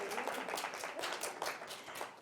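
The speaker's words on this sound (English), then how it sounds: "Round of applause." Members at a general membership meeting give a round of applause, a moderately quiet, distinct patter of many hands clapping with a slightly uneven rhythm over about two seconds.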